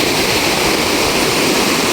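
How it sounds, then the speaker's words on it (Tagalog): Big waves crash and churn during a typhoon, heard as a loud, steady roar of rushing water with no pauses across the short stretch. "Malaki ng alon."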